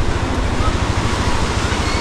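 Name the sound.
strong flowing river current, Bongabon river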